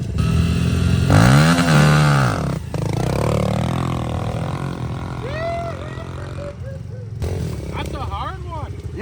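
A stock pit bike revs hard in second gear with a rising, straining engine whine, followed by a rougher, lower idle while people talk and shout nearby.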